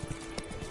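A horse's hooves clip-clop quickly on the ground in The Witcher, a brief burst of a few quiet hoofbeats during a gallop.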